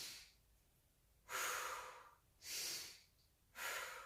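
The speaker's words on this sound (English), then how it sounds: "that's just belly breathing. Okay, that's just breathing down into the tummy" Slow, deep belly breaths drawn down into the abdomen, three loud airy inhales or exhales close to the listener, spaced about a second apart with quiet pauses between.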